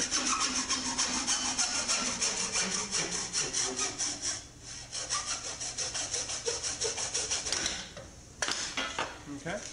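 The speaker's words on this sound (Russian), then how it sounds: "ПВХ легко пилится обычной ножовкой." An ordinary hacksaw cuts through PVC pipe with steady, rhythmic rasping strokes, close and fairly loud, pausing briefly twice before resuming.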